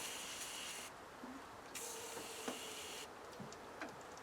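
Short bursts of hissing spray from an aerosol can of penetrating oil into a 1962 Ford Galaxie 500XL window, two or three blasts close by, separated by brief pauses with faint clicks.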